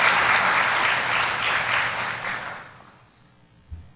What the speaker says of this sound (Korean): 우리 하나님께 영광의 감사의 박수를 한번 들어주시길 바랍니다